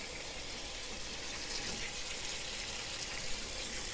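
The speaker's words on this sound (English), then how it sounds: "So now what we'll do is we'll turn some water on." Tap water runs steadily into a sink to rinse salted kimchi cabbage, a continuous close gushing flow with no talk over it.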